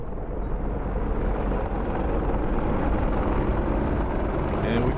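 Helicopter engines in a VR flight game drone steadily and loudly with a continuous rotor and turbine roar, holding constant throughout without pauses.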